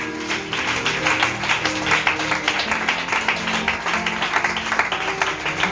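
A church congregation at a prayer and fasting service claps and acclaims together, sustained rhythmic applause over a sung or hummed melodic backing, fairly loud and close.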